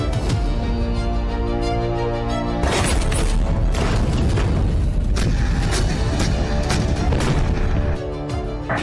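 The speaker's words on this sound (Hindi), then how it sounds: "भारत की तोपें नॉन स्टॉप गोले बरसा रही हैं।" Dense, continuous heavy booms and blasts from Indian artillery guns firing shells roll together, loud and relentless, a sustained barrage with hardly a pause.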